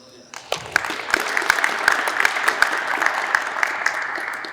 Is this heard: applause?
yes